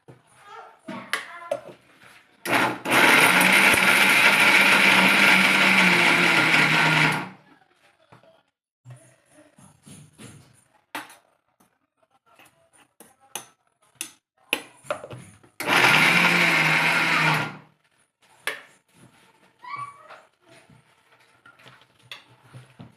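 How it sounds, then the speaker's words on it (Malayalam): A mixer grinder whirs loudly in two bursts grinding jackfruit seeds, the first about four seconds, the second shorter, with clattering and handling noises in between. "ഈ ചക്കക്കുരു ഇത് മിക്സിയിലിട്ട് ഒന്ന് ചെറുതായി പൊടിച്ചെടുക്കുക"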